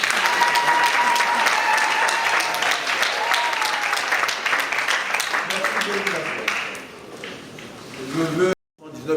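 Sustained applause from wedding guests at a Congolese civil marriage ceremony fills the room, dense and even for several seconds before thinning out, then briefly cutting off and resuming.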